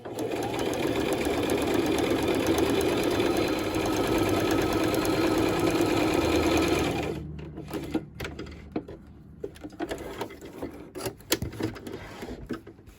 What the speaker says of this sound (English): So I'm just sewing my polypropylene to my lining.